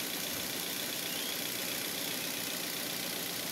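A Toyota Avanza 1.5 engine runs at idle, a continuous even whir with a hissy, broadband texture and no change in pace.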